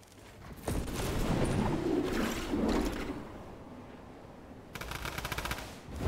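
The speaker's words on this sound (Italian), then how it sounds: "A chi sta sparando?" Gunfire in the video game Fortnite, a sustained mid-level rattle of shots followed by a quieter stretch, then a closing burst of rapid fire. No voices are heard.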